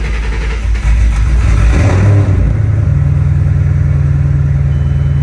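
A Ford Mustang S197 drift car engine cranks and catches loudly, then settles into a deep, steady idle rumble close by.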